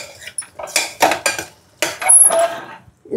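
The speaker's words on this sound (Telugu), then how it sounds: "ఇప్పుడు అంతా కలిపెడతామండి బాగా" A spoon scrapes and clanks against a pot while mutton kheema ingredients are mixed, in irregular close metallic bursts with short pauses between.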